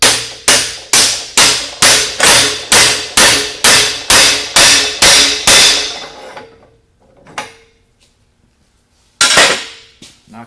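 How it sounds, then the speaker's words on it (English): A new water-pump bearing is driven in with a handled driver tool, about a dozen sharp, evenly paced metal hammer blows close up, then a pause with a couple of light knocks and one final strike. "knock the new bearing in like that"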